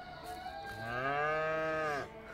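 A cow in the video game A Way Out gives one long, loud, close moo of about a second and a half, rising and then falling. It sounds alone, with no talk over it.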